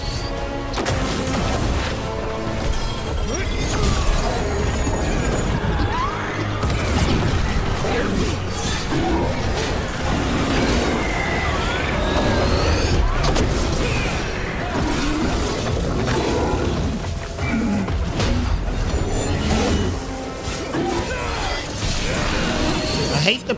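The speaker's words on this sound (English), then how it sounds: "I hate the periodic explosion thing of the champion fight" Periodic explosions crash and shatter during a champion boss fight in Dragon Age: The Veilguard, repeated bursts amid busy combat noise and game music, with a player talking at times.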